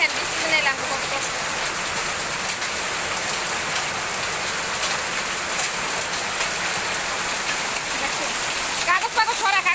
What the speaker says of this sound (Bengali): আওয়াজ পাইতেছেন শুনতেছেন দেখেন কি পরিমাণ বৃষ্টির আওয়াজ